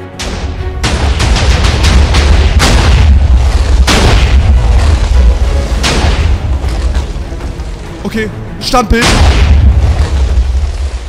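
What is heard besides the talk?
250,000 TNT blocks exploding in Minecraft video game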